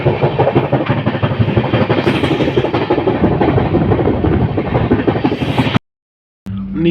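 Intercity Express train 15675 from New Jalpaiguri to Guwahati rumbles loudly with continuous clickety-clack heard from on board, then the sound cuts out briefly before resuming.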